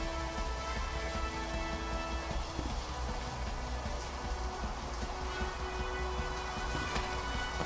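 Steady rain falls in a video game, a continuous soft hiss of drops at an even level with no break.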